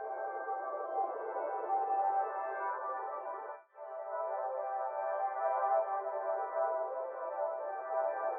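A steady, bell-like synth tone made from wind chime samples, with bright ringing overtones, sustains evenly, dipping briefly before continuing at the same level.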